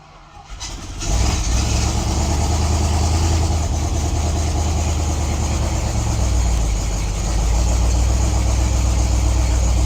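A junkyard drag car's starter cranks the engine in a loud, steady, continuous drone lasting several seconds, close by and with no talking.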